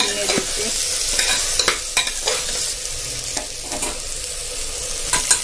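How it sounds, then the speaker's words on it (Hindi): Cumin rice being stirred and roasted in a pressure cooker, with a close steady sizzle and repeated sharp scraping clicks of a spoon against the metal base. "अब इसे अच्छे से मिक्स कर देते हैं और 2 से 3 मिनट तक इसको भूनने देते हैं।"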